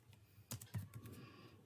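Fingers tap a computer keyboard in a few quiet, uneven bursts of clicks, with a couple of sharper keystrokes standing out against a near-silent room.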